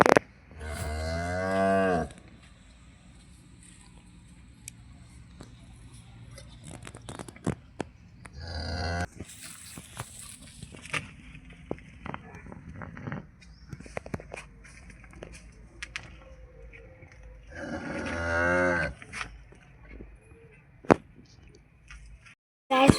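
Cattle moo loudly twice, near, with long drawn calls at the start and again near the end, between quieter rustling and scattered knocks in a village yard.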